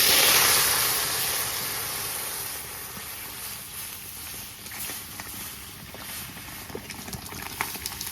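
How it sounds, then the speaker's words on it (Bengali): Lentils (dal) tipped into hot tempering oil in a village kitchen sizzle and hiss steadily, a loud bright crackle at first that settles into a softer bubbling patter, with no talk. "বাগার চেষ্টা করতে ডাউল দিয়ে দেবো এখন।"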